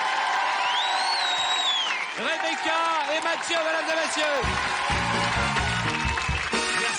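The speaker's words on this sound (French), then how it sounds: "Rebecca, Mathieu, vous pouvez les applaudir très très fort." A TV studio audience on a French entertainment show applauds and cheers loudly and continuously, a dense wash of clapping and whoops that carries on beneath a presenter speaking and some music.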